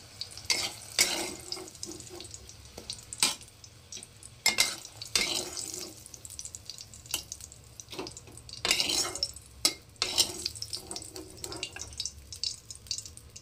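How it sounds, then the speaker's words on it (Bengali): Eggplant pieces fry in oil in a home kitchen for a katla fish curry, giving an uneven sizzle with sharp spattering bursts and occasional clatter at moderate volume, with no talking. "তো এখন বেগুনগুলোকে আমি একটু ভেজে নেব।"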